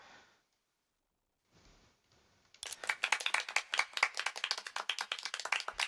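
Crowd clapping in the video game Honkai Impact 3rd: after a near-silent opening, a dense burst of many hands clapping starts about halfway through and carries on steadily and loudly to the end.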